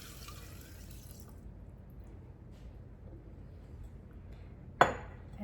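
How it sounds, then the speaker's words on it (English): Vodka poured over chopped echinacea coneflower: a brief splashing pour at the start, then near quiet, ending with one sharp clink close by. "So now we have our vodka, and I am just going to pour it over the top."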